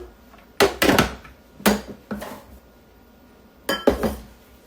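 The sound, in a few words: pecans being put into a measuring cup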